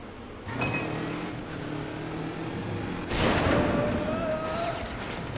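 A dynamite box explodes in Trials HD once a trigger is crossed, heard as two loud broadband blasts, the second one bigger, with rumbling tails and whining engine-like tones between them.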